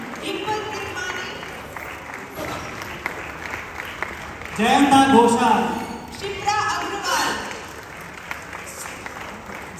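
Audience applause at a charity music show by an Indian community group in Ghana, swelling in the middle into a louder burst of clapping, with an announcer speaking over it.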